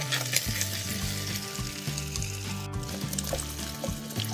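Continuous sizzling and crackling of pork fat rendering in a cauldron over an open fire, with scattered pops and occasional stirring scrapes, close up and steady throughout.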